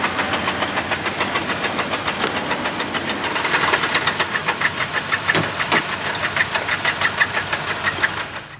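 Damaged hybrid car engine running with a loud, rapid rhythmic knock, close up, with a hissy mechanical roar swelling briefly and a couple of sharp clicks partway through.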